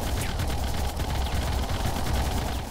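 Plasma gun fire in The Red Solstice video game, a dense, continuous crackling barrage of rapid shots that holds at a loud, even level without pause.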